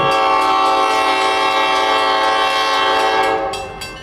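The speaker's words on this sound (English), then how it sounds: "A Santa Fe SSB 1200 runs light out of Mormon Yard just east of Stockton Tower" A Santa Fe SSB 1200 switcher running light out of Mormon Yard near Stockton Tower sounds its horn in one loud, steady, close blast that holds for several seconds before easing off at the end.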